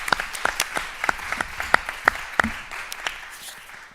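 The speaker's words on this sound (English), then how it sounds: "Let's give them a round of applause." Audience applause for a panel on electric aviation and sustainable fuels, a dense wash of hand claps with a few sharp claps standing out, steady at first and slowly fading toward the end.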